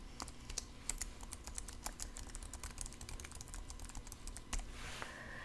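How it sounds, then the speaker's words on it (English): Fingers type a web address on a computer keyboard, with quick, close, irregular key clicks running steadily for about five seconds over a faint room hum. "all I have to do is type in my URL"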